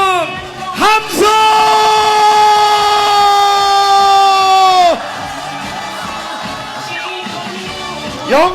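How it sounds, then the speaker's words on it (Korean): A crowd at an outdoor Korean presidential campaign rally in Yeongcheon roars and shouts together, a loud sustained mass of voices for about four seconds that drops into lower cheering and scattered yells. "함성!"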